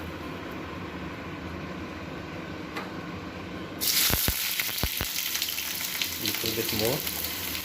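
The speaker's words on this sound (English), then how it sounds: "So you can see the vessel is hot now. Put some onions, not all of it," Onions dropped into a hot pan for biryani, a sudden loud sizzle bursting in midway and holding steady with a few clattering knocks, while a person speaks briefly over it.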